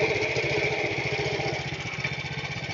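A Husqvarna cultivator's small petrol engine runs at a steady idle while loosening shallot beds, a close, rhythmic low chugging with a buzzy mechanical tone that dips slightly toward the end.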